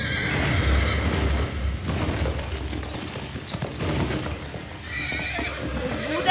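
A horse neighs loudly, and hooves clip-clop within a dense, noisy action-film intro scene from Chhaava. The sound is mixed into a thick soundtrack, with a second whinny near the end.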